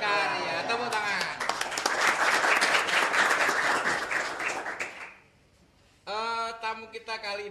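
Audience breaks into loud, dense applause that swells and holds for several seconds before fading to quiet, with a voice speaking over the start and again after the clapping ends.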